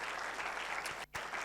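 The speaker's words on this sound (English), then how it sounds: "Can we hear a round of applause for them?" Applause from a seminar audience at an economics talk, a steady dense patter of clapping that carries on and dips briefly near the end.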